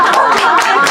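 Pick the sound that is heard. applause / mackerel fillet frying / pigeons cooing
applause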